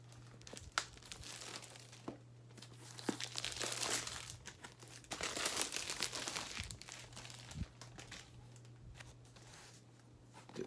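Plastic wrap on a boxed toy set that recreates a Super Nintendo being torn and crinkled open, with steady close crackling and rustling bursts over a low constant hum.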